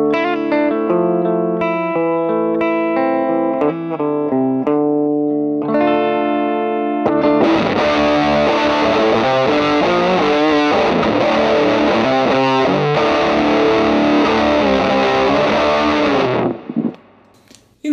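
Electric guitar through a clean plexi-style tube amp, first picked notes and chords with a fairly clean tone, then a fuzz pedal kicks in for a thick, saturated, loud riff that sustains for about ten seconds before cutting off.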